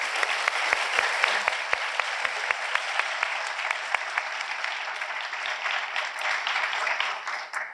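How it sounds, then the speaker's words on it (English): A crowd at a medical school white coat ceremony breaks into sustained applause, dense steady clapping with a few sharper individual claps, holding at an even level throughout before easing slightly at the end. "So just a quick round of applause for them."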